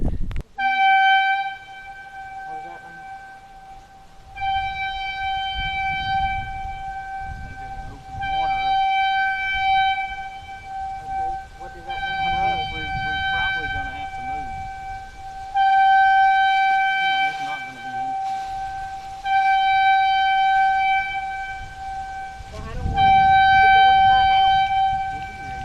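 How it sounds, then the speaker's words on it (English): A dam warning siren sounds before floodgates open for water release, a loud sustained multi-tone wail repeating in long blasts over outdoor rumble, with people talking underneath. "you just heard the siren go off. They're getting ready to open the water up and let water out of the dam."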